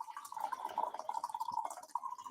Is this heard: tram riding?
no